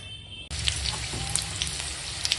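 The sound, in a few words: green and dried chillies tempering in hot oil in a wok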